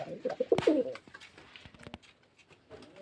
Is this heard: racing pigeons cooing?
yes